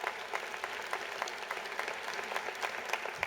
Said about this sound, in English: Your families, your friends, your loved ones, they deserve a great round of applause as well